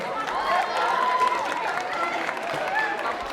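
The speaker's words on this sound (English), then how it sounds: "Now, can we give our volunteers a round of applause?" A seated audience at a cultural celebration fair applauds the volunteers, a brief steady wash of clapping and crowd noise with a few raised voices over it.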